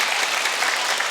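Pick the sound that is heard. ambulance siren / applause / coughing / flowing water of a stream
applause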